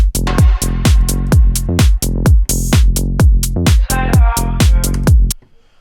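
The first part of a modern tech house drop plays loud and alone, with a steady four-on-the-floor kick pulsing under a bright synth melody before cutting off near the end.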